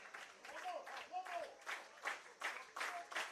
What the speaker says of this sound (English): Crowd begins to clap.